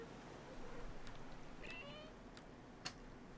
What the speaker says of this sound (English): Kitty noises.